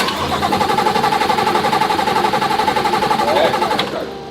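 A car engine runs steadily after being jump-started, a loud continuous mid-pitched drone with a rhythmic pulsing hum that holds for about four seconds before dropping away abruptly near the end.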